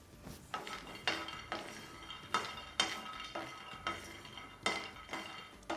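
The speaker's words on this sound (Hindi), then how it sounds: "ए सिग्गी और ए मूंगफली का दाना तिड़कवा लग गया।" Peanuts dry-roasting in an oil-free pan, stirred in a regular rhythm so each pass gives a bright metallic clink and rattle, moderately quiet and close.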